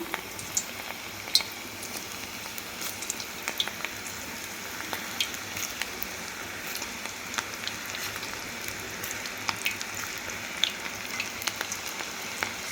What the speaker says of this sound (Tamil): இப்போ எண்ணெய் காஞ்சிருச்சு நம்ம கொஞ்சம் கொஞ்சமாக மிதுப்பக்கடா போட்டு பொரிப்போம்